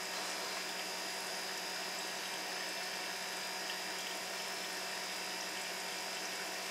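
A small air compressor with a 10 litre tank runs steadily as it fills, giving a constant, even drone close by that barely changes for the whole stretch, with no talking.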